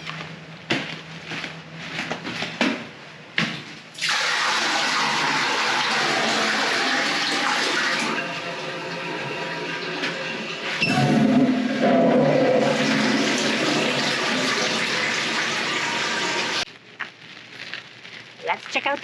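Gray water draining at a campground disposal station at Letchworth State Park, New York, a steady broadband rush of running water lasting most of the clip, with brief clunks at the start and end and voices audible in places.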